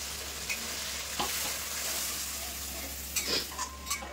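Peas and water go into spiced masala frying in oil for matar paneer, giving a low steady sizzle with a few soft stirring clinks and scrapes, fairly quiet and close.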